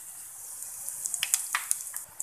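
Mustard seeds and cumin land in hot oil for corn chevdo, giving a soft sizzling hiss with a quick run of sharp little pops and crackles up close, and no talking.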